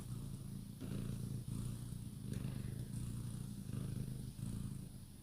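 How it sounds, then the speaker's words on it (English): A female cat purrs up close, a low continuous rumble that swells and dips in slow breathing cycles, alone without talk. "She wants to give you a purr session now."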